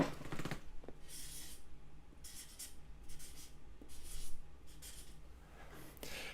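Marker writing on a whiteboard: a series of short, squeaky scratchy strokes in bursts separated by pauses, faint and close, with no talk.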